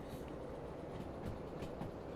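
Train rolling along track in the Derail Valley railway simulator, a low steady rumble with faint rhythmic clatter, quiet and continuous, no talking.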